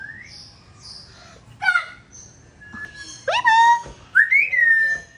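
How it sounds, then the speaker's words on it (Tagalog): An African grey parrot at a zoo whistles a series of rising and sliding tones, clear and fairly close, with a few short chirps in between over quiet background noise. "African gray parrot."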